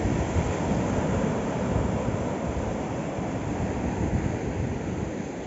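Sea waves on the shore beside rocks at Garopaba beach, a continuous wash of surf and wind noise, steady and fairly close with no talk over it.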